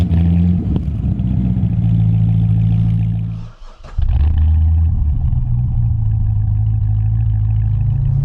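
A Chevy Corvette C6 Z06 with its LS7 V8 pulls hard on a twisty San Diego County road, a loud, close engine roar that dips briefly during a gear change before surging again.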